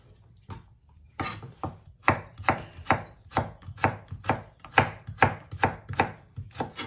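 Knife on a cutting board slicing vegetables into thin sticks for kimchi. Crisp chops come one by one in a quick, even rhythm, about a dozen sharp close thuds, after a few hesitant cuts at the start.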